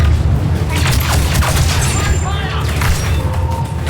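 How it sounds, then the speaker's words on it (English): A grenade explodes in Star Wars Battlefront 2 with the Clone Wars Overhaul mod: a loud, sustained boom rolls into crackling gunfire and battle noise, with in-game voices heard over the din. "Deploy grenade. Wait for it, grenade."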